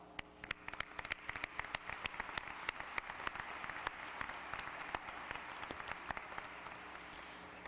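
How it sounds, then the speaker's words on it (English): Applause from a high school graduation audience fills the hall with a dense wash of clapping, with sharp individual claps standing out. It sounds fairly distant and continues steadily throughout. "we give them a round of applause"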